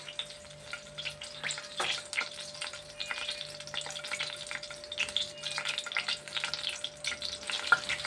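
Onions fry in a pan with a soft, continuous crackle and sizzle, punctuated by repeated scraping strokes and taps of a spoon as they are stirred, close and moderately loud.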